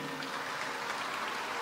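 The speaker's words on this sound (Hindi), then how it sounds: "हम लोग खूब ताली बजा करके इनका स्वागत करते हैं।" Audience at a religious discourse gathering clapping to welcome a guest councillor, a dense, steady burst of applause throughout.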